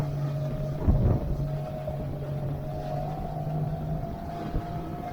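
A 1989 Montauk motorboat cruises at moderate speed on a sea trial, its engine holding a steady droning hum with wind buffeting the microphone and a brief thump of the hull.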